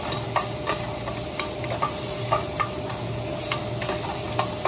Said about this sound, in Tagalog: Gisa-gisa tapos halo-haloin lang natin